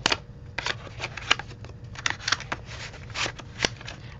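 Small calling-card-type cards being handled and slid out of a little glassine envelope, a quiet run of soft papery flicks and rustles in close, irregular bursts with no talking.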